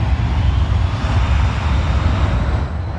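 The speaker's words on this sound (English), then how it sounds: "Airplane." A steady, loud roar of an airplane engine with broadband rushing noise and heavy low rumble, continuous throughout without voices.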